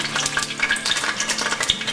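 Hot oil sizzles and spits steadily in a pot with a little water in it, a loud, dense crackling with frequent sharp pops and no pauses.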